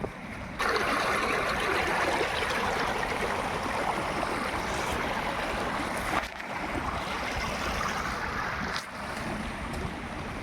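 A loud, continuous rush of falling water from the Barabakhara waterfall in Bargarh district, Odisha, roars throughout, steady and close, with a couple of brief dips in intensity.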